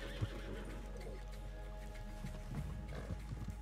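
Horses in Red Dead Redemption 2, a couple of faint whinnies and hoof clatter over a constant low rumble of background noise, quiet and somewhat distant.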